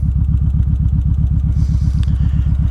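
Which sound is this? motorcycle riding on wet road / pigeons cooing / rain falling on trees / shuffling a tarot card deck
motorcycle riding on wet road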